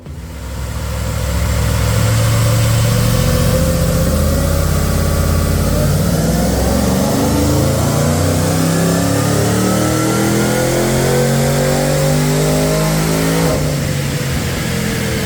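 A supercharged car engine with a lumpy cam, tuned on a dyno after a power upgrade, loud and close, revving up and holding high with a rough, choppy idle character underneath.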